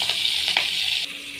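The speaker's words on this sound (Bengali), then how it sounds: "এই যে আলু পেঁপে একসাথে দিয়েছে, এগুলো ভাজা হবে" Papaya and potato frying together in hot oil, giving a steady close sizzle for a short stretch that softens near the end.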